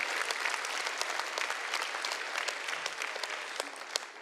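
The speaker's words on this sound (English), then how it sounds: "Give yourself another round of applause." An audience at a conference keynote applauds steadily in a large hall, a fairly faint, even wash of many hands clapping with a few sharper individual claps near the end.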